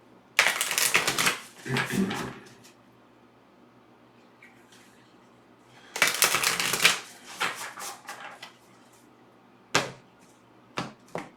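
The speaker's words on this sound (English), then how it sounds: "Let me finish shuffling the second deck really quick" Tarot cards riffle and flutter in two long bursts, with softer card slaps and taps in between, close and crisp with no talking.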